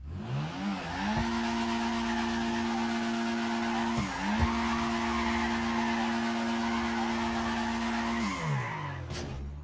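A car drifting in GTA 5, engine droning at a held pitch with long continuous tire squeal and skid, a brief dip midway as the car transitions, then a steady howl until it eases off near the end.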